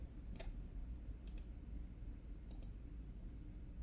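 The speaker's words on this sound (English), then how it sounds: "Click and drag." A computer mouse gives a few quiet, sharp clicks in small clusters over a low steady hum, close but faint.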